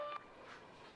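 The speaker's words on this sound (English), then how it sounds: "Every alert from her phone sparks a brief panic." Short electronic alert tone from a mobile phone rings out at the start, a brief bright chime that ends abruptly, leaving quiet room noise behind.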